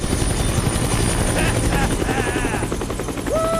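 A helicopter in the video game Dead Rising Deluxe Remaster drones with a loud, continuous, pulsing rotor hum, layered with other busy game sounds and a rising electronic tone near the end.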